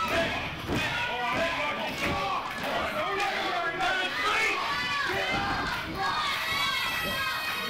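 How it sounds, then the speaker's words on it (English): A wrestling crowd at an eight-man tag match cheers and chants to rally Mick Drake, a loud, continuous roar of many voices with rhythmic shouts and claps rising over ring noise. "You hear the crowd getting behind Mick Drake, trying to get him going"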